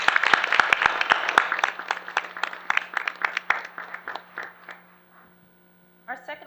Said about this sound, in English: We can at least give her a round of applause